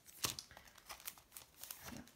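A small piece of paper is handled and crinkled while preparing a rubber-stamp birthday message. Soft, close crackles and rustles come in several quick bursts over a couple of seconds.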